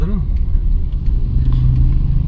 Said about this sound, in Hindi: ये देख रहे हैं छल्ला छींटे उड़ाती हुई जा रही है गाड़ी